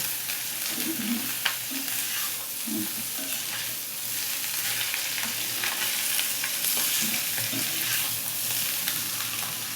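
Vegetables seasoned with turmeric fry in a pan with a continuous sizzle, broken by intermittent scraping and stirring sounds throughout, close and fairly loud.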